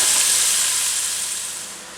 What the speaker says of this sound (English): So I'm going to get this all seared up, and then once that's done, we'll be back.